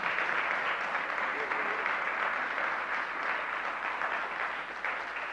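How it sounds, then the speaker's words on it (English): A big hand of applause from a church audience for the helpers, steady dense clapping that fills the whole stretch at an even level. "Can you give our helpers a big hand clap today?"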